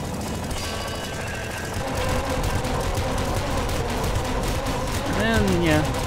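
Weapon fire in the top-down shooter Nuclear Throne, a steady stream of rapid crackling shots running throughout under game noise and a talking voice, with short warbling tones near the end.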